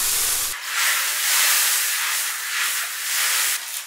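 Water hissing and steaming in a hot, uncoated cast iron wood-fired wok during seasoning, a loud continuous broadband sizzle that swells and eases in waves after a brief low rumble at the start.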